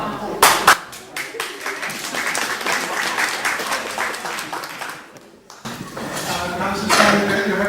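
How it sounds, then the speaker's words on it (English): Applause from the public gallery in a town hall council chamber, scattered close claps building into a ragged patter, dipping briefly near the end before resuming, with voices mixed in. "The gallery can hold its applause to the end."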